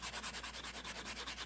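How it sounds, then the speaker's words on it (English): Earring wire being buffed on the hammered side to remove hammer marks, a steady close scratchy rubbing in quick repeated strokes with no talking. "I'm just going to buff out this wire."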